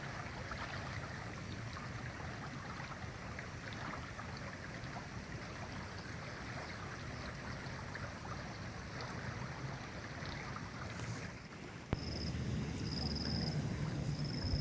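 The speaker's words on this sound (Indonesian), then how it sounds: "Ieu walungan sungai teh kasohor ku para pemancing." A river near Tanjungpura village in Tasikmalaya flows steadily, its broad, continuous rushing wash holding an even level throughout with a slight shift near the end.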